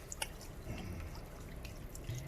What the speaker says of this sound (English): So as you can see, this is already bubbling.